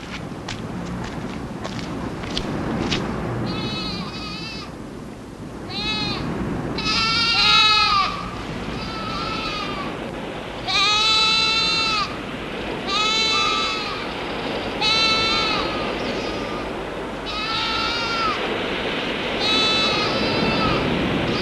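Goats on the rocky ledges of Pitcairn Island bleat in repeated wavering cries, some loud and close and others fainter. Scuffling footsteps on rock are heard between them, and no one speaks.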